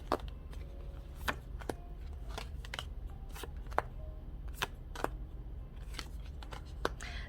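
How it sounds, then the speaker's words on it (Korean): Tarot cards are shuffled and drawn in a string of soft, crisp riffles and flicks, some isolated and some clustered, steady and close against a low background hum. "우리 커플분들은 추가 카드를 뽑아봐야겠죠"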